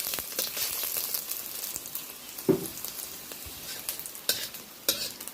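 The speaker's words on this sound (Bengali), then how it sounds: "কড়াইতে অল্প তেল ছিল, ওতে আমি রসুনটা হালকা করে ভেজে নিচ্ছি" Garlic frying lightly in a little oil left in a wok after chillies were fried, giving a steady close sizzle with occasional stirring clinks and scrapes, no voices.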